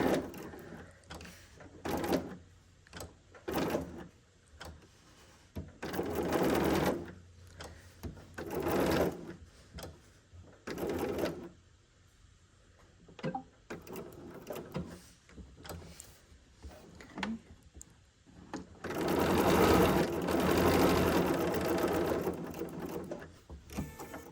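A sewing machine with a freehand embroidery foot stitches in repeated bursts, with short runs and pauses and one longer continuous run near the end, a close whirring buzz with no talk over it.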